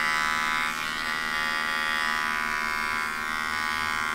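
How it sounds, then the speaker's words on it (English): Electric dog clippers buzz steadily while trimming around a poodle's feet and pads, a close, continuous high whine that dips slightly at moments of contact, with no talking. "And then I take my clipper and I go right up next to my hand."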